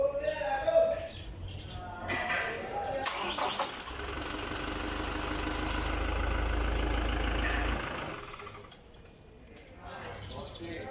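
After a battery replacement, a car engine is cranked and catches, then runs at a steady, rumbling idle for a few seconds before shutting off, with a voice talking nearby before and after.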